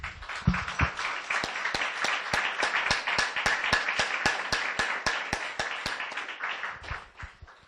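A church congregation applauds its God after a sermon call, producing a steady burst of clapping that rises quickly and holds for several seconds, with a prominent sharp rhythmic beat running through it, likely one clapper keeping time, before tapering off.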